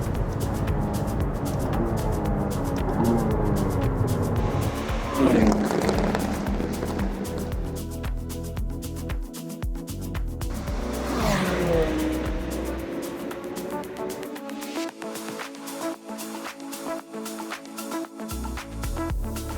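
A McLaren supercar racing on the Sepang circuit, engine revs rising and falling through gear changes and passes, loud and close with shifting pitch, mixed with other noise.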